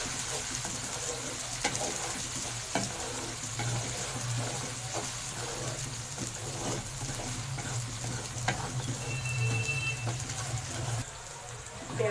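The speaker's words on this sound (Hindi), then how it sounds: "और साथ ही डालेंगे लहसुन अदरक का पेस्ट। इसको भी हल्का सा भूनेंगे।" Onions frying in a pan with garlic ginger paste, a steady close sizzle and hiss with occasional stirring scrapes and light clicks, continuous throughout.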